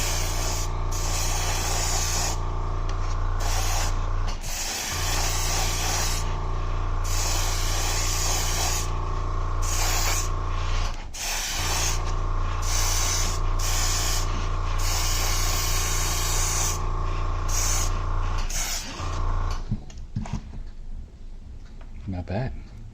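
A spray gun shooting at 30 psi hisses steadily and loudly as paint goes onto a GMC Caballero, with a few brief breaks between passes and talk at times.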